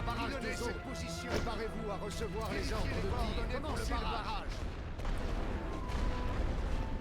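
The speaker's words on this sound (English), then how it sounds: "we'll start by barraging their artillery rounds out" Heavy artillery barrage in a Great War strategy video game, repeated booming shots and rumbling blasts under someone talking throughout.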